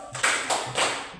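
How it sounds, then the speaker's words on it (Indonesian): Classroom 'focus clap': a group of students clapping hands in unison, three sharp synchronized claps in a steady rhythm, fairly close and alone. "Tepuk fokus."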